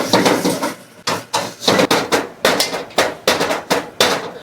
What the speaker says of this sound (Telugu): మిశ్రమాన్ని మొత్తం మంచి కలుపుకోవాలి